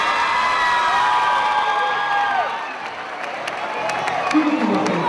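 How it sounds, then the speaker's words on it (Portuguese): Family and guests at a 2005 school graduation ceremony applaud the eighth-grade graduates, with clapping, cheers and shouts rising from the crowd while voices carry over it. "Nossos aplausos aos formandos da oitava série."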